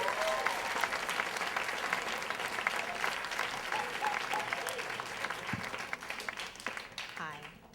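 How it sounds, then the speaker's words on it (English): An audience breaks into loud, sustained applause that fills the room, then begins to taper off near the end. "please a big round of applause for Katherine Miller"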